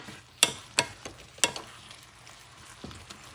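Tomato sauce for guanimes con bacalao sizzles in a pan on medium-high heat, with a few sharp crackles and taps standing out over a low, steady cooking hiss. It is close and has no talking.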